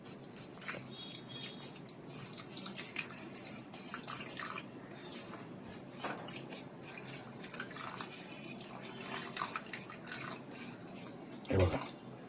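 Water poured from a small metal pot into a drink mix while being stirred, a faint trickle and drip with soft clinks of utensils, a sharper knock near the end, quiet and close.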